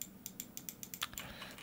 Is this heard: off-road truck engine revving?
no